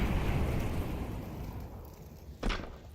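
A Molotov incendiary grenade bursts into flames in a competitive shooter match, a low roaring whoosh of fire that slowly fades, followed by a sharp pop near the end.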